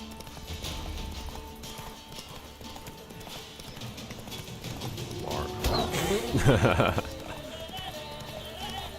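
Rhythmic hoof clip-clop from a horse in The Witcher 3: Wild Hunt, steady under someone talking over game music, with a louder rustle and clatter near the end.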